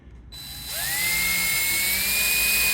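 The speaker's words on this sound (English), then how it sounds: "I like to drill a little pilot hole" A small drill bores a pilot hole into a pinball playfield door, spinning up to a steady high-pitched whine that rises slightly and holds, close and loud.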